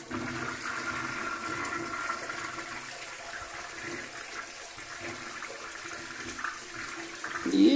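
A household toilet flushing, a continuous rushing and gurgling of water close by that carries on steadily for several seconds and swells slightly at the end, without talk.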